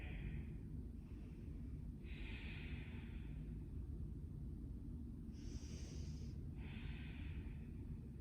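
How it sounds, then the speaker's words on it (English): Slow, deep breaths during a yoga stretch in a power and balance class: soft airy inhales and exhales at a steady pace, faint and close, over a constant low background hum. "We'll have about 3 breaths here"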